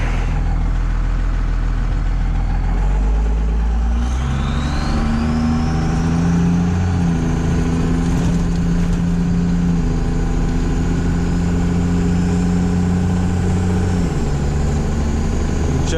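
A truck engine idles steadily while warming up, with a deep, constant drone and a low whine rising slightly partway through; the sound is loud and close throughout, with no talking.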